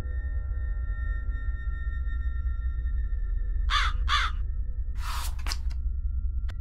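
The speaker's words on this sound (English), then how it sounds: "A crow again." Two harsh crow caws ring out close together over a steady low drone and sustained game music, followed by a brighter burst of noise, in the horror game My Inner Demon.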